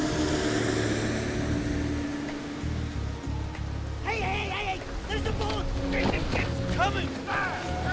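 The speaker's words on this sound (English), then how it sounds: "The boat sets off at full speed to the rescue." A fast rescue boat races across a rainy, wave-tossed North Sea, its engine roaring steadily under wind and water noise, with voices and sharp warbling tones breaking in partway through.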